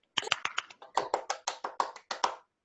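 A small group claps over video call microphones at a virtual student songwriters' showcase, about a dozen uneven, choppy claps with gaps between them, thin and close, with no talking.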